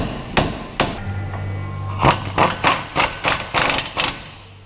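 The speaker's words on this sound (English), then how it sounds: "we can take a hammer, just get a nice easy tap to drop it in all the way" A hammer taps a part into place during reassembly near a brake rotor: a few isolated sharp strikes, then a rapid run of about a dozen close, bright metallic taps in an uneven rhythm.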